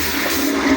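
A toilet flushing in a hotel restroom during plumbing tests for a renovation, a steady loud rush of water lasting under a second with no talking.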